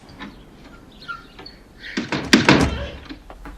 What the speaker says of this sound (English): when he closes the door on Diane Keaton in the end, and right after the door slams